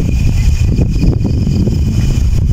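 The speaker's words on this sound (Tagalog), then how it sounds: "malakas ng hangin" Strong wind roars steadily against the microphone, a loud continuous low rumble with gusty buffeting throughout.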